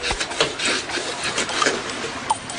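A harsh, continuous rasping friction of a wooden bow drill spindle rubbing against wood while making fire, close up, with uneven back-and-forth strokes.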